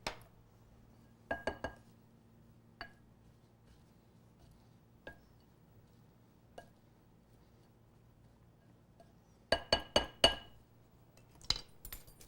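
A fork tapping and scraping against a glass bowl while mixing salt and dried herbes de Provence in a kitchen, heard as sparse, quiet clinks with longer pauses and a quick cluster near the end.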